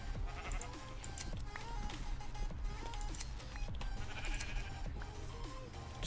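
Sheep bleating in Minecraft, several short calls scattered over steady, busy game background noise, moderately loud and with no talk.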